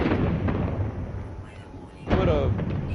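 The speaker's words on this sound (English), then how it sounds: "put a firework down." A firework bursts in the space exploration game No Man's Sky, a loud booming blast with a rumbling tail, rising again sharply after a brief lull amid dense, noisy game ambience.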